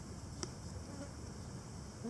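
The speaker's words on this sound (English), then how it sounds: "Actually, there's a goddamn mosquito in here." A mosquito buzzes indoors as a faint, steady high whine with a brief louder pass, heard alone over a quiet background.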